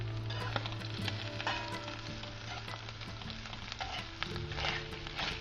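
Eden vegetables and tuna frying together in a pan make a steady, dense sizzle that crackles and pops at a moderate level throughout, with no voices.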